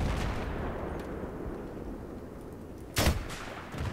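A tank gun firing in Battlefield 3 multiplayer, one sharp heavy blast cutting through a dull rumbling battlefield background, followed by a short trailing boom.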